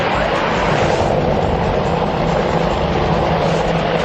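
An indigenous Light Combat Helicopter (LCH) in flight produces a steady, loud, dense roar of rotor and engine noise that stays constant throughout, with no break or variation.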